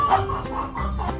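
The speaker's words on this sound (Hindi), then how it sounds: "फिर वो जिंजरब्रेड मैन पहुंचा मुर्गियों के पास।" Hens clucking in a kids' cartoon story, a few short, close clucks in quick succession with a faint background.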